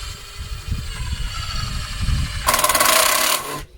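A driver runs screws into a wooden swing seat frame joint, with rubbing and handling noise at first, then a loud, steady burst of driving near the end before it cuts off.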